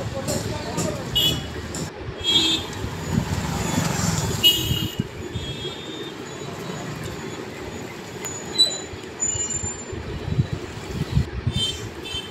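Road traffic on a village road in Bengal: a steady rumble of passing vehicles with scattered horn toots and brief tonal squeals, fairly close throughout.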